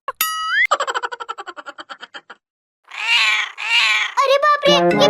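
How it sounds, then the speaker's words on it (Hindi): Several high, cartoonish kitten meows from an animated comedy ring out in quick bursts, mixed with a boing-like sound effect and a rapid run of pulsing tones. "ये बिल्ली के बच्चे कहाँ से आ गए?"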